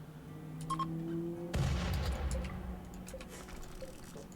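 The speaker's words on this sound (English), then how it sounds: "I love how the explosion comes before the spacecraft have impacted." A spacecraft impact explosion in a strategy video game starts as a sudden booming burst partway through and decays into rumbling debris. Softer ticking game effects come before and after it.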